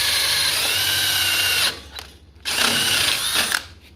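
A power drill whines loudly as it bores through wood, stopping briefly midway before a second sustained burst.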